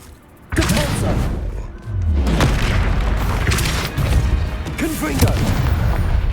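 Hogwarts Legacy Depulso spell cast in the video game, a loud booming thud with dense game effects and a shouted in-game voice over continuous rumbling combat noise.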